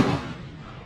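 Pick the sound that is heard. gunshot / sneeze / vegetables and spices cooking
gunshot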